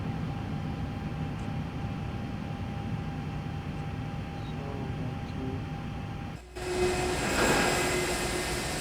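An airliner on ground taxi toward runway 19 left, its jet engines giving a steady broadband roar with a low hum, then a brief dip and a brighter, louder surge of engine noise near the end.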